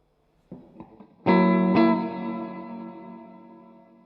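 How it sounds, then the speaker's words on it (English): A few light guitar notes, then two strong strummed chords through a Cuvave 9 Type plate reverb with decay turned fully up, the last chord ringing out in a long, slowly fading wash. "That's a very good reverb,"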